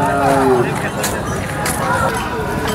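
Khillar bulls at the busy Sangola cattle market, with a few low moos and bellows rising over a constant hubbub of crowd chatter nearby.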